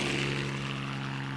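A helicopter's steady droning rotor and engine hum, a continuous low buzzing tone with no breaks, moderately loud and unaccompanied by talk.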